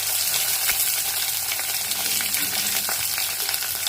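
Chopped shallots, garlic and chillies fry loudly in a clay pot for fish curry, making a dense, constant close-up sizzle with faint stirring and no voices.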